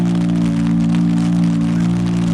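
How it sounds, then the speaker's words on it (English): Steady rain falls across an outdoor classic car rally, a continuous close hiss that runs unbroken over a constant low hum, with no voices. "And hopefully this rain won't be around tomorrow."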